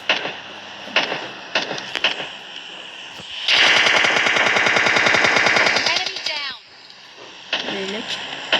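Video game gunfire: a few single shots, then a long sustained burst of rapid automatic fire for about three seconds, loud and close, with a voice speaking before and after the burst.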